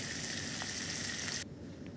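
Small mourala fish fry in oil with a dense, hissing sizzle that holds steady, then abruptly drops to a softer simmering hiss partway through.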